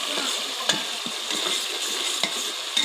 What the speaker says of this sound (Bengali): ভালোভাবে নাড়াচাড়া করে ভেজে নিতে হবে।